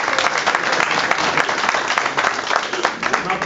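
Loud, dense applause from an audience at a ribbon-cutting event for a Boro Park Shomrim command center, steady crowd clapping filling the whole stretch without a break.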